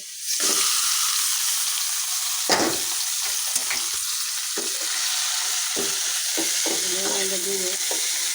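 Gourd greens are tossed into browned onions in hot oil, raising a loud, steady, close sizzle with occasional stirring scrapes and a faint voice near the end.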